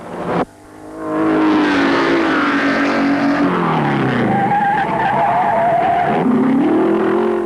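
1948 French Grand Prix at Reims, 1.5-litre formula Alfa Romeo race cars roaring loudly past with rising and falling engine pitch, a sharp swelling pass after a brief quiet start and another surge near the end.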